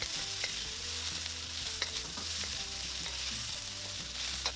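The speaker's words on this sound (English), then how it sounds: "Add the garlic and the cooked sausage shrimp mushroom mixture and cook until aromatic." Garlic with a cooked sausage, shrimp and mushroom mixture sizzles in a pan for chicken sticky rice, a steady close frying hiss with occasional stirring clinks and scrapes, no voices.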